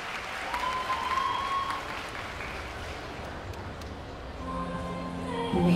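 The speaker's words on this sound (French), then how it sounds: "Je vous prie, s'il vous plaît, de faire un tonnerre d'applaudissements pour Aiden Cosplay, qui va nous cosplayer à" A crowd applauds continuously at a cosplay event, a dense wash of clapping with a few whistles and cheers, fairly loud and sustained.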